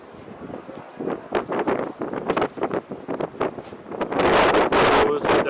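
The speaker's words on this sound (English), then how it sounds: "it's really windy over here" Gusty wind buffets the microphone in rough bursts, growing stronger and more constant toward the end, with people talking underneath.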